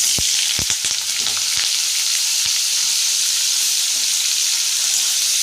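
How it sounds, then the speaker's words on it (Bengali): Mushrooms fry in hot oil in a wok with a loud, constant sizzle close by, and a few sharp stirring knocks come early before the hiss settles into an even roar. "ভালো করে একটু ভেজে নিই মাশরুমগুলোকে আগে"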